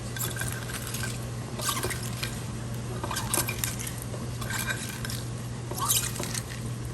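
Wet squelching and dripping as soaked bitter gourd pieces are squeezed by hand over a bowl in a home kitchen, with intermittent splashes and light clinks of dishware over a low background hum.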